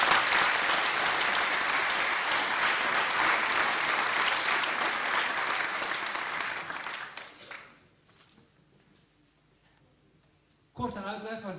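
An audience at a Dutch church revival gathering applauds loudly and steadily for several seconds, then the clapping fades away to near silence before a voice briefly starts speaking.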